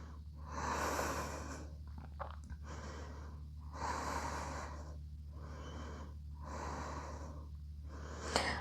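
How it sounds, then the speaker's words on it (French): Slow, deep breaths during a back-focused yoga hold, with long airy inhales and exhales in a steady rhythm of about three cycles, close and soft over a low steady room hum. "On va rester 3 profondes respirations."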